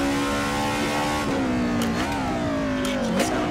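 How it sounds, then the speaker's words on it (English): A 1990s DTM Mercedes 190 race car engine in a sim racing game at Barcelona, loud and continuous, revving up and down with gear shifts and rising tones close to the listener. "The engine sounds a little loud."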